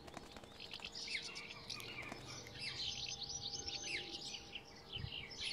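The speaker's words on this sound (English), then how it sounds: "Housemartins, another arrival from Africa." House martins, spring arrivals that nest under building eaves, twitter in a busy chorus of high chirps and trills that runs continuously throughout, fairly close and clear.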